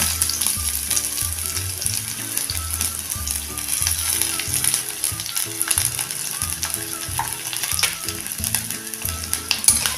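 Onion fries in a little oil in a pan for Kolhapuri mutton, giving a loud, continuous close sizzle with stirring that lasts throughout, and no voices.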